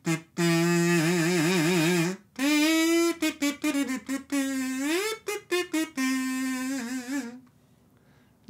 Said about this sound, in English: it'll vibrate inside the kazoo and give it its sound